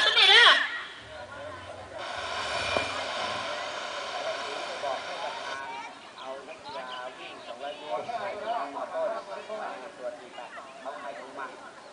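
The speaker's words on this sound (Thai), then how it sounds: "ในนี้เสียงเครื่องบินเนี่ย" An airplane drones overhead during a school sports day, a broad steady roar that swells for several seconds under people talking nearby, while children and other voices carry on throughout.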